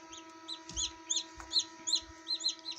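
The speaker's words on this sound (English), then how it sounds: "hatched baby chicks nice and warm as they dry off" Newly hatched baby chicks kept warm as they dry off in an incubator, giving repeated high thin peeping calls in quick bursts over a steady mechanical hum, close by, with a few soft low bumps.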